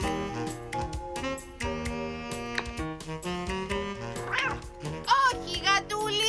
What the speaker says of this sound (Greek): Όχι, γατούλη, φύγε!